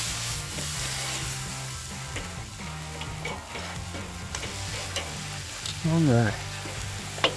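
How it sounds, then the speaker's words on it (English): Denver steaks and filet mignon sear over very hot charcoal on a grill with a steady close sizzle and crackle, broken by a few scraping rubs and a short spoken remark. "I want to sear, these Denver steaks have a good edge, and so do the filet mignons"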